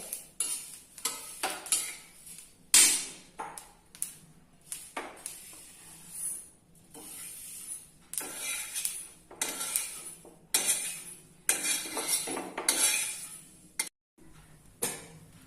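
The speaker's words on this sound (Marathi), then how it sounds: "तीळ आपले पूर्णपणे भाजून झालेले आहेत, ते आता आपण एका बाउल मध्ये काढून घेऊया" A spoon scrapes and clinks against a pan and bowl as roasted sesame seeds are transferred, giving a string of irregular close metallic scrapes and taps with short gaps.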